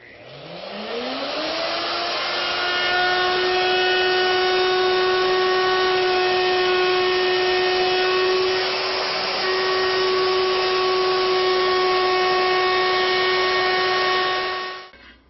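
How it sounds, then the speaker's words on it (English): A router with a bearing bit rounds over the edges of wooden feet, a steady high whine that spins up at the start, holds loud and even for about fourteen seconds, then cuts off, with no talking. "I'm going to use a router bit with a bearing and just round over the feet"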